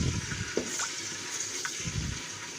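Grated garlic and ginger fry in oil in a pot with a soft, steady sizzle and occasional stirring scrapes, close and fairly quiet.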